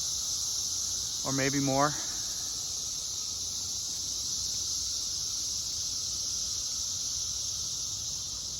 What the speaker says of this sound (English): the buzzing you hear on the audio is billions of those suckers up in the trees, humming and buzzing, looking for a mate